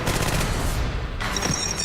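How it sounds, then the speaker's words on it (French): Rapid automatic fire from a Thompson submachine gun in a video game, a dense continuous burst of loud shots filling the whole moment with no pauses. "J'ai pris le Thompson. Il a une cadence de tir plus rapide. Il tire 700 coups par minute."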